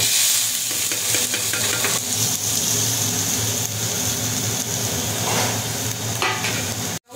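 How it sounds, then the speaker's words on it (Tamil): Chopped onions fry on a high flame with fennel, cinnamon, star anise, cloves and cardamom for paneer matar masala, giving a steady, loud sizzle with stirring scrapes throughout and no voices. "ஹை ஃப்ளேமில் வச்சுட்டு இது 7 to 10 minutes நல்லா கோல்டன் ப்ரௌன் வர வரைக்கும் ஃப்ரை பண்ணணும்"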